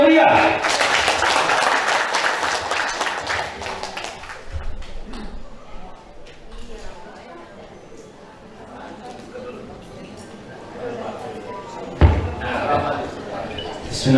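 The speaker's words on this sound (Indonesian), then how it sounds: "Tepuk tangan yang meriah." Applause breaks out in a formal Indonesian gathering, a burst of clapping that fades to scattered claps and room murmur, with a brief thump near the end.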